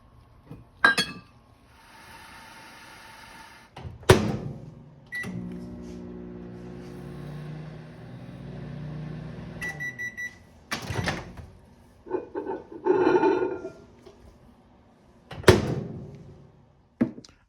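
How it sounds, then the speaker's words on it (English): A microwave oven heating water hums steadily for several seconds between clunks of its door and beeps, with clinks of glass nearby. "hot water, 2 minutes in the microwave."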